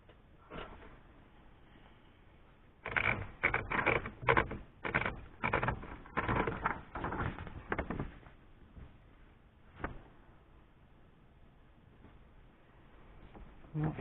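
Keys of a Remington Noiseless 6 typewriter being struck in a dense burst of muted, even clacks, then slowing to a few scattered strokes, close and fairly quiet.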